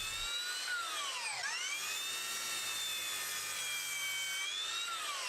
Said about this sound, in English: Then I trimmed those pieces to length at the miter saw.